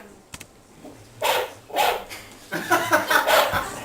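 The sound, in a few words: dog barking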